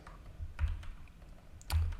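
Keys clacking on a computer keyboard in a few scattered bursts, with heavier low thumps near the start and end, fairly quiet and close, no speech.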